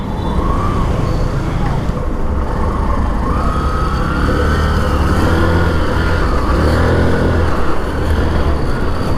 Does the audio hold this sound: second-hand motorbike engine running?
yes